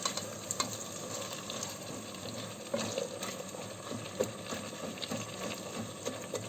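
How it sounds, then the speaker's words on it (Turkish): Vegetables and tomato paste sautéing in a pan for a Turkish pea dish, a soft steady sizzle with occasional stirring clinks and scrapes, fairly quiet and unaccompanied by talk. "Şimdi salçamla sebzelerimi güzelce soteleyeceğim."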